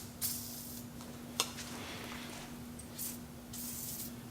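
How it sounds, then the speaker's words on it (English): Penetrating oil sprayed from an aerosol can onto truck suspension parts during a leveling kit install: a few short hissing bursts, fairly close, with a steady low hum underneath. "I like to start by spraying everything down with a good penetrating oil"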